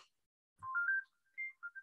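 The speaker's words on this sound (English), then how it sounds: "My phone is ringing." A mobile phone ringtone plays a short, bright melodic phrase of a few clear tones, followed by two quicker notes, heard alone at moderate volume.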